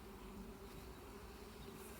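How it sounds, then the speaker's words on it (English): Honey bees buzz at a wooden beehive frame during hive inspection, a continuous faint drone of many insects close by with no talk. "Wait for that bee to get out of the way."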